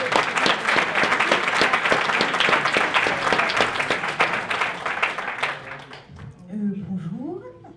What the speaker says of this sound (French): Un gros applaudissement pour Audrey.